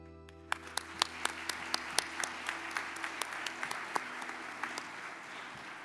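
Audience applause at a family and private business awards ceremony, a crowd clapping steadily with sharp individual claps standing out, moderately quiet and fading slightly toward the end.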